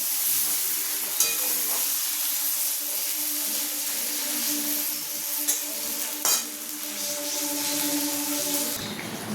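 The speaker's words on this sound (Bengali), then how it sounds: "এটা এবার ভালো করে নাড়াচাড়া করবো।" Hilsa fish head chorchori with eggplant and potato sizzles steadily in a pan while being stirred, with a close, constant frying hiss broken by occasional scraping knocks of the spatula.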